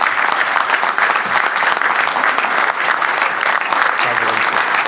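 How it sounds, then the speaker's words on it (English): A committee meeting audience gives a steady round of applause for newly badged members, loud continuous clapping filling the room with a faint voice underneath. "let's give them another round of applause and congratulations."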